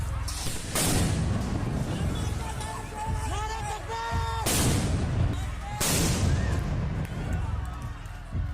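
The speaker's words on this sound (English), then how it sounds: "They're firing into the campus." Gunfire during a street protest on a university campus in India, heavy booming shots and bursts echoing over a noisy crowd with raised voices and shouting throughout.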